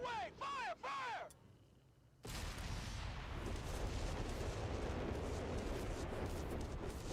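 Rapid artillery rocket barrage firing in Company of Heroes 3, a sudden dense continuous roar of overlapping launches that starts abruptly after a short high whistling and a brief quiet gap, staying loud to the end.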